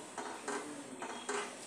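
A spoon stirs whole masoor lentils as they are sautéed in a pot, giving three or four short close scraping strokes against the metal with a soft sizzle underneath.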